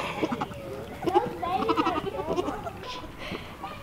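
Baby goats from a small herd of tiny goats bleat in short, high wavering cries, close by and repeated, with a person talking softly over them.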